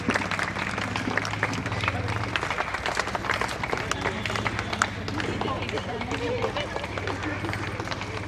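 A standing audience at a Women's Day function in an apartment complex claps to welcome guests, a dense, continuous patter of many hands over a low hum, with voices mixed in.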